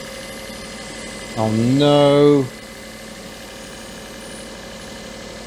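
A Daihatsu Charade engine with a slight air leak idles as a low, steady hum, while someone briefly says a few words over it.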